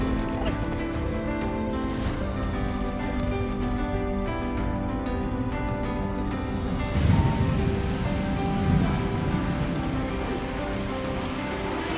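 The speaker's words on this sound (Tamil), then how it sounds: "எதிர்பாராத விதமாக மழை கொட்டுன்னு கொட்ட ஆரம்பிச்சிது" Heavy rain pours down steadily as a dense, continuous wash during a road trip along the coastal East Coast Road toward Thiruchendur, with a few louder splashy bursts partway through.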